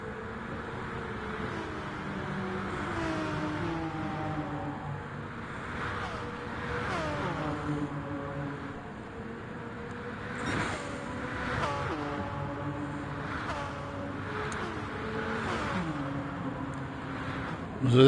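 Jaguar and Porsche 962 race cars in the Gran Turismo Sport video game, engines wailing at high speed with repeated rising revs and gear shifts, heard under steady commentary talk.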